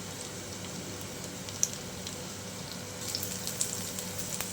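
Finely chopped garlic and ginger sizzle steadily in hot oil in a pan, a soft continuous frying hiss with a few small pops and crackles, heard alone without talk.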